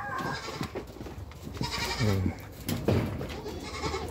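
A two-month-old goat kid, still nursing, bleats beside its mother in a farm setting, giving a few short, close cries amid rustling and faint background voices.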